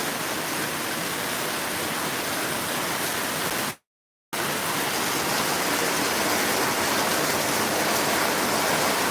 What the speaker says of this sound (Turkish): felaket doluyla beraber yağmur yağıyor görüyorsunuz